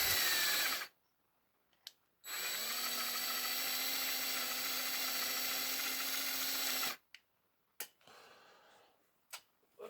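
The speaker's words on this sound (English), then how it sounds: "4mm drill bit. And I'm just going to very gently remove the top of that rivet post." A 4mm bit drills the top off a rivet post on a Matchbox No 36 refuse truck toy, giving a loud, steady high whine for several seconds after a short first burst, with a few small clicks and knocks around it.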